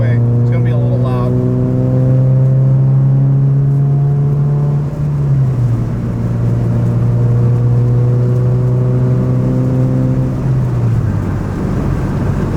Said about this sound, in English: So this is 4th gear entering the highway freeway. It's gonna be a little loud.